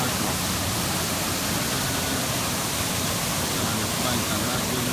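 Waterfall at Sandankyo gorge, a steady broadband roar of falling water filling the scene evenly from start to finish, close and continuous with no breaks.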